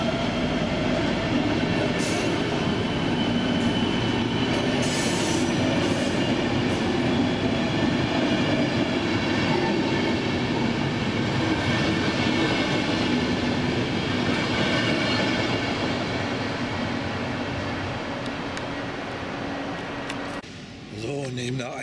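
A EuroCity passenger train rumbles past close by in Frankfurt (Oder) for a long stretch, wheels clattering and metal squealing in a loud, continuous roar that eases near the end.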